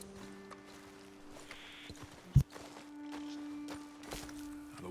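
Horses walking in Red Dead Redemption 2 during a rainy outing, with soft irregular hoof clops on the ground, one sharp thud midway, and a low steady background hum, moderately quiet.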